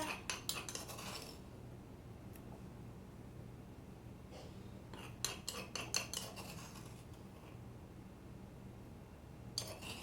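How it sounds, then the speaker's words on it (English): A utensil stirs herbs in a container, bursts of clinking and scraping in short clusters separated by quieter stretches, close and fairly faint. "what I'm going to do is I'm going to stir the herbs"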